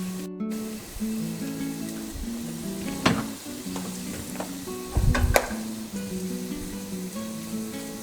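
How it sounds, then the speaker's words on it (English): Spices dashed onto onion cooking in a pan for Iranian aash reshteh noodle stew: a steady close sizzle with several sharp stirring clicks and a louder burst of crackle partway through. "one by one, I'm going to be adding a dash of these spices to the onion that is cooking"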